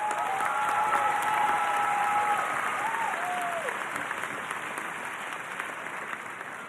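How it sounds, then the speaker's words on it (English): A graduation-ceremony audience at a Rockville high school commencement applauds steadily, a broad, dense wash of clapping that holds at fairly even loudness and tapers slightly toward the end, with a few faint tonal whistles or cheers near the start. "Now this deserves a round of applause."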